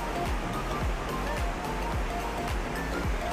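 Water from a small waterfall into a stagnant pool at Puting Bato, Cabadbaran City, rushes in a constant broadband roar, close and steady throughout.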